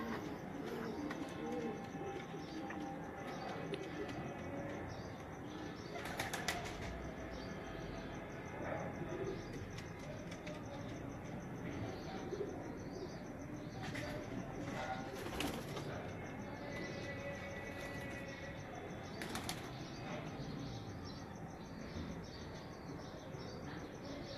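Breeder pigeons coo softly and keep on, with occasional brief bursts of flapping wings, in a steady low background; a faint voice is heard now and then.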